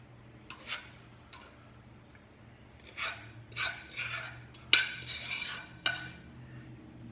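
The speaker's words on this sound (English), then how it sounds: "And then you just want to put it in an even layer in your pan." Soft scraping and light taps as a peanut butter and cereal mixture is pressed into an even layer in a pan, scattered quiet clicks and scrapes against a faint hum.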